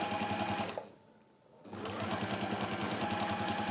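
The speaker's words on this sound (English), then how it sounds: "I'm stitching fine now" A sewing machine stitches fabric for a hexagon cushion in a fast, steady mechanical rattle, pausing briefly in the middle before running again at the same close, even pace.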